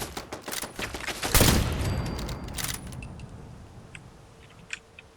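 Rapid gunfire and explosive rounds in the video game Fallout 4, a dense burst of shots and blasts with a heavy boom in the middle, then fading to scattered distant impacts.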